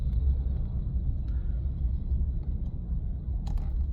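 A small electric micro car, a Rainwoll RW10 or Wuling Mini EV, creeps slowly through traffic across a bridge, giving a steady low road rumble and tyre noise throughout with faint passing sounds, and nobody speaking.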